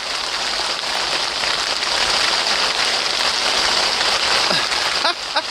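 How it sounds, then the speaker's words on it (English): Hailstones falling during a March carp fishing trip at Cretelakes make a loud, steady, dense patter that fills the whole stretch without letting up. "Hailstones."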